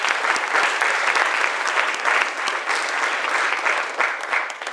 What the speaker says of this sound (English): Give him a round of applause for both of them, y'all